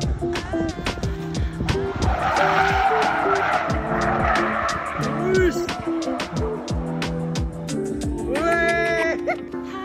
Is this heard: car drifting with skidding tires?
yes